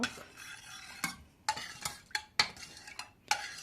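A spoon stirs a potato marinade, striking the bowl in sharp, irregular clinks and scrapes about every half second between softer swishes. It is close and clear, with no talking.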